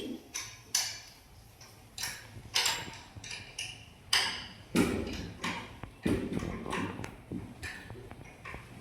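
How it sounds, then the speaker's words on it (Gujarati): A number 11 fixed spanner tightening a nut and bolt on a bench vice, repeated close metallic clicks and knocks in an uneven rhythm, moderately loud, with no talking. "હવે નટ અને બોલ્ટને આપણે 11 નંબરના ફિક્સ પાનાની મદદથી ટાઈટ કરી દઈશું."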